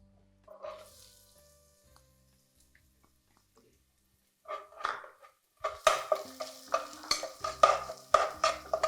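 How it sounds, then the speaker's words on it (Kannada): One finely chopped onion goes into a pan for frying, heard as scattered quiet clinks at first, then a burst of rapid metallic spoon scraping and stirring against the pan, fairly close and without talk. "ಆನಿಯನ್ ಹಾಕ್ಬಿಟ್ಟು ಫ್ರೈ ಮಾಡಿ"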